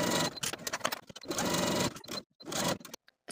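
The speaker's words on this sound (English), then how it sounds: "you'll start sewing at the underarm and you'll sew all the way down at a half inch seam allowance" A sewing machine stitches a garment side seam at a half-inch allowance, running in loud rapid bursts of whirring needle clatter with brief pauses between runs and a final short stop, close up and without talk.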